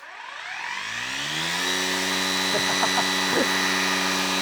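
A Makita cordless brush cutter with a reversible head spins up in high torque mode, its motor whine rising steadily into a loud, constant hum with a few faint knocks.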